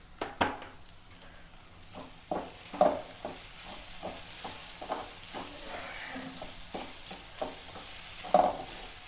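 Food frying in a pan for chana dal and okra fry, a quiet sizzle with frequent stirring clinks and scrapes that come in an uneven rhythm.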